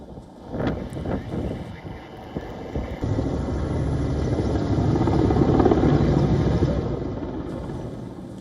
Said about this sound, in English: with helicopters dropping water from above